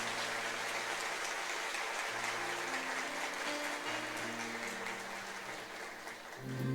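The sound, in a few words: church congregation applause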